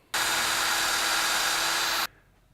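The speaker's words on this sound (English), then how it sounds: "I'm going to drill the head of that rivet off." A power drill with a 9/32 drill bit grinding off the head of a rivet on a Corvette seat clevis, one steady high whine lasting about two seconds, then stopping abruptly.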